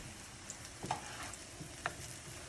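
Food sizzles quietly in a frying pan just after being flipped with a short-handled spatula, a soft continuous fry with a few small ticks and scrapes, no voices.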